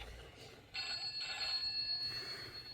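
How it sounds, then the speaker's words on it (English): A telephone's steady electric bell rings continuously at moderate loudness, its bright metallic tone sustained for a couple of seconds with a brief dip midway. "I can hear a bell ringing. Oh, the telephone."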